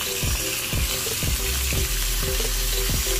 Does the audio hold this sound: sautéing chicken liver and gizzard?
yes